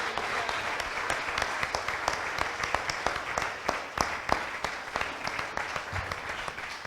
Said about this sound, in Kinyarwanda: Let's put hands together for Jesus.